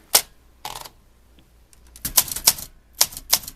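Olympia typewriter from around 1970 typing: sharp, close key strikes, a few isolated clacks then a quicker burst of several keystrokes, loud and alone with no talk.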